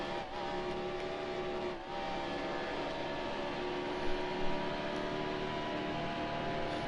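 A NASCAR race car engine in NASCAR Heat Evolution drones steadily at high revs with a constant buzzing tone, briefly dipping and swelling as the throttle is lifted and reapplied.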